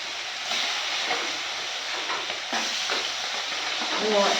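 Pomfret fish fry in hot oil, giving a steady close sizzle and hiss with faint stirring and spatter.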